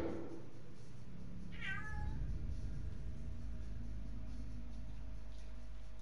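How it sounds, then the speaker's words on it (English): A house cat gives a single short meow, fairly close, over a quiet room hum with a faint steady tone. "No, that was the cat in my house."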